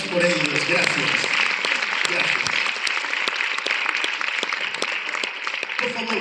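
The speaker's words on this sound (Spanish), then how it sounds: "Un aplauso a Dios por ellos." Congregation applause at a church conference, broad steady clapping filling the room for several seconds with a few shouts over it, fairly close and loud.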